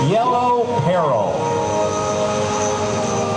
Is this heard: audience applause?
no